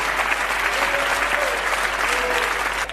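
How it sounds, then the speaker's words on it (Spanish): A church congregation applauds loudly at a Christian worship service, a dense, steady wash of many hands clapping close by for the full stretch with no break. "denle un aplauso bien fuerte a Jesucristo, nuestro Señor"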